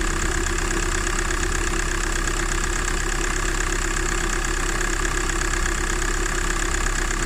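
A VW Golf 4 1.9 TDI turbo diesel idles steadily during an engine flush, a continuous mid-low rumble with a faint knocking texture, close and even throughout with no talk.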